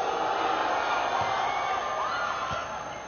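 A lively crowd at a women's college volleyball match between NU and FEU fills the arena with a steady wash of cheering and shouting, continuous and fairly distant, with a couple of faint thuds.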